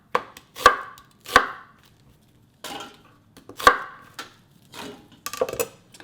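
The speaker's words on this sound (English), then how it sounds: "Ginger around 1 tablespoon. Slice thinly." A knife thinly slices ginger on a board in a handful of crisp, separate thuds. The cuts come in irregular pairs and clusters with quiet gaps between them.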